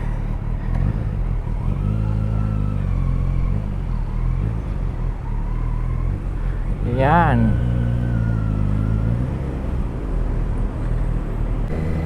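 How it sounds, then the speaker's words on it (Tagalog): Road traffic building up in Masinag, a steady low rumble of engines with passing vehicles and a brief horn-like tonal burst midway, while a person talks over it. "Nagbi-build up na ang traffic dito sa Masinag."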